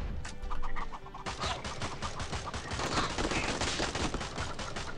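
Chickens cluck in the Swamp Attack 2 mobile game, tangled with rapid gunfire and a dense, constant clatter of game effects throughout.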